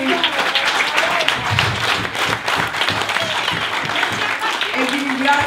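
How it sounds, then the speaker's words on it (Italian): Guests at a 50th wedding anniversary celebration applaud in a sustained burst of dense, lively clapping filling the room, with voices and cheers mixed into the crowd. "Applausi."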